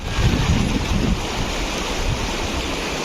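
River water flowing in a steady, broad rushing wash, close and fairly loud, a little stronger in the first second, with no talking.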